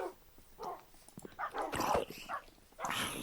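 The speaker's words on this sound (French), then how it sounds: "Ça en fait du bruit par contre, tous ces chiens" Several tamed dogs in the Minecraft video game barking in scattered bursts, some yips and whimpers among the barks, moderately loud game audio with no speech.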